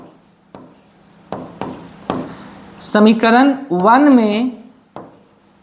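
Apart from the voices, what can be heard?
writing an equation on paper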